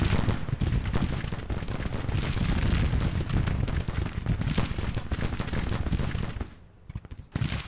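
Sustained gunfire from massed Civil War infantry and guns in Grand Tactician: The Civil War. The crackle of volleys runs almost without a break, dense and loud throughout, then thins briefly near the end before a few more shots.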